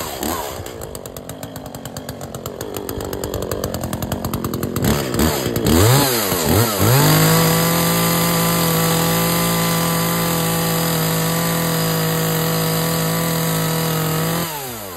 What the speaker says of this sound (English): What you know about that chainsaw?